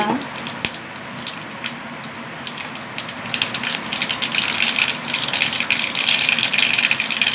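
Mustard seeds crackle in hot oil, starting quiet then building into dense, rapid popping and spattering close by, like a burst of rain.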